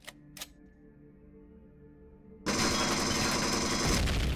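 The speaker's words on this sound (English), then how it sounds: "I'm also getting shot at by a gun turret." A hostile gun turret in Empyrion Galactic Survival opens fire on the player. A couple of faint clicks give way to a sudden loud, continuous stream of rapid automatic shots.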